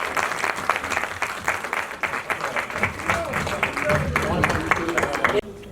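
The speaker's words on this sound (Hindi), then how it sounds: "जोरदार तालियां" An audience at a stage show honoring Lata Mangeshkar's 93rd birthday breaks into loud, sustained applause, dense clapping throughout that cuts off near the end, with a voice speaking over it.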